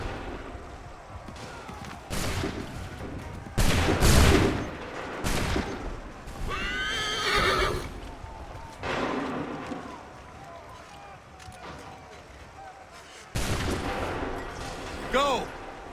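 Musket volleys crack out in Assassin's Creed III Remastered, several loud, dense bursts spaced seconds apart amid battlefield din, with shouted voices between them.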